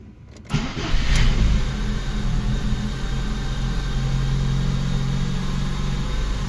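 A car engine cranks briefly during a cold start attempt after intake work, catches within a second and settles into a loud, steady, rough idle that runs on to the end.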